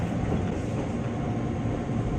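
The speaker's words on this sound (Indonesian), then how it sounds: "Maul lagi ada di KRL Bekasi Line JR205 yang akan memasuki jalur 3 stasiun Manggarai" A KRL Bekasi Line JR205 commuter train rolls into platform 3 at Manggarai station, heard from inside as a steady low rumble and hum from the wheels and motors with no voices.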